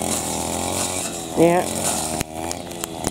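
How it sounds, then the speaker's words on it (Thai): A brush cutter's small engine drones steadily, swells briefly, then cuts out and sputters, with a short spoken remark over it. "เครื่องตัดหญ้าวูบเลยทีเดียวนะนี่ฮะ"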